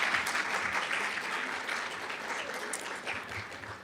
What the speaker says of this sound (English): let's give Beth a round of applause